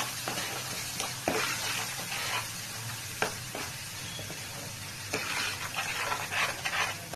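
Masala for egg curry is stirred in a hot pan, giving a continuous sizzle with scraping strokes and occasional louder knocks of the spoon, close up and with no voices.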